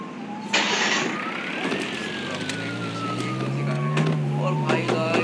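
Police car siren from a video game, its rising and falling wail sweeping steadily over engine rumble and other game noise for several seconds, with a voice talking over it.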